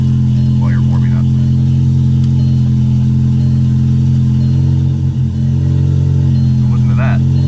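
A Cadillac CTS turbo engine idles steadily close by while warming up, a low continuous hum with a faint background murmur and a few small clicks.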